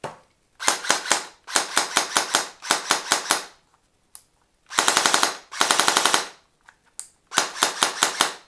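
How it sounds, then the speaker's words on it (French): An airsoft MAC-10 Ingram submachine gun fires without its silencer, several sharp rapid bursts, loud and close, with short pauses between volleys and no talking. "Je vais faire un petit test sans le silencieux maintenant."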